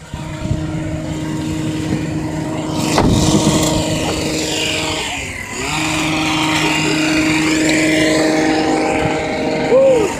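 Tree-cutting machinery runs outdoors with a loud, continuous engine drone that dips once and then surges back. A brief sharp crack cuts through it.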